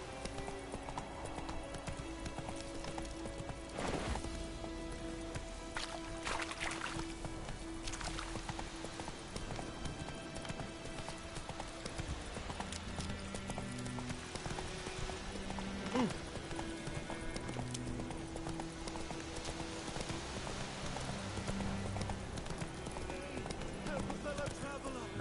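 Geralt's horse Roach galloping in The Witcher 3: Wild Hunt, a continuous rapid drumming of hooves under game music, with brief voiced lines from the rider.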